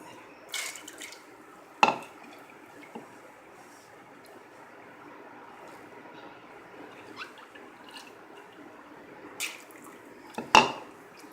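Dry lentils tipped into a pot of warm salted water while making dhaba-style dal palak, giving a couple of sharp clattering splashes and a few soft drips in a quiet kitchen, with no talking.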